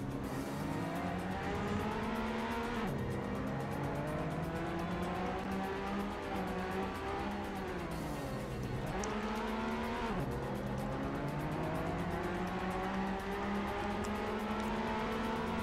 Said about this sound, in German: Und da bin ich irgendwie gegen die Leitplanke gefahren, warum auch immer.